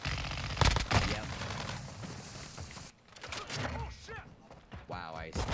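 Gunfire in Call of Duty: Modern Warfare II multiplayer: sharp shots and short bursts in a busy, cluttered game mix, loudest early on, with a voice talking over parts of it.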